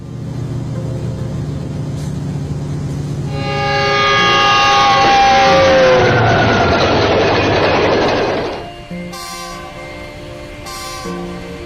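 A large train passes close by with a loud rumbling roar that rises with a steady horn-like tone, then falls away. Softer tones linger at the end.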